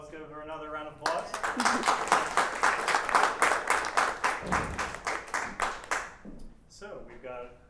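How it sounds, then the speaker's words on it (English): An audience applauds after a talk on off-world semiconductors, a burst of brisk rhythmic clapping that starts suddenly, swells and then fades, with a person speaking just before and after it. "Let's give her another round of applause."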